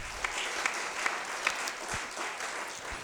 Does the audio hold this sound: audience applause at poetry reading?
yes